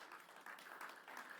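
A church congregation clapping during a sermon, a soft, steady patter of many hands that dips briefly and then resumes, faint and at a distance.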